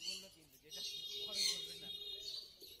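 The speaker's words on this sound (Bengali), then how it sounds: "খুবই অ্যাক্টিভ এবং হেলদি পাখি আউল ফিঞ্চ" Owl finches at an outdoor bird market in Garia give a steady chatter of high, thin chirps and tweets, close by, with someone talking over them throughout.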